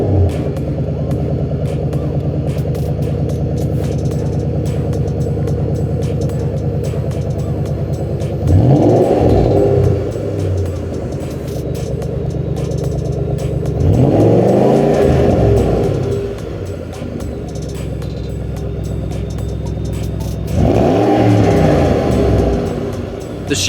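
The engine of a Sterling Grey 2014 Shelby GT500 Super Snake idles with a deep, loud rumble, then revs sharply three times, each blip rising and falling back to idle.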